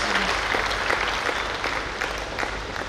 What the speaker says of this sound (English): Please give yourself a big round of applause for that.